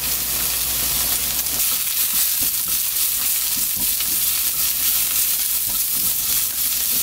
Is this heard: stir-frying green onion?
yes